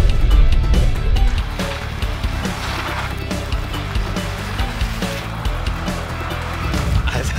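VW Polo drifting through a chicane with almost no traction, a loud roaring engine and rushing tyre and wind noise surging and swelling, with brief talk mixed in.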